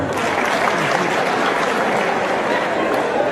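Dense, steady applause from a large audience at a national party delegates' conference, a continuous broadband wash of clapping that holds at full strength for the whole stretch.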